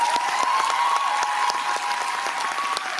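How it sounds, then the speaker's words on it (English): Dense, steady audience applause at a film promotion event at a Shiamak Davar dance show, sustained for the full length with a faint tonal hum beneath and no talking. "I think he deserves a round of applause for that."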